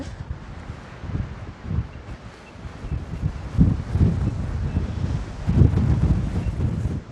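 Steady wind blows outdoors across a rain-damaged garden with stones and soil, buffeting the microphone in loud, gusty surges throughout.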